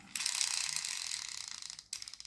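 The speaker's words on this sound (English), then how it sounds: "one of those idler gears I was on about is now engaging the gear that engages the back axle" A Hot Wheels Speed Winders Torque Twister toy car's gear train and ratchet clicking as it is wound, a close rapid run of small plastic ticks that stops briefly and then resumes.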